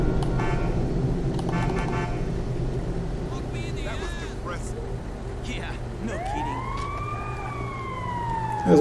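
A car horn honks in Grand Theft Auto V amid game traffic and background noise, followed by a rising and falling siren-like wail that sweeps up near the end.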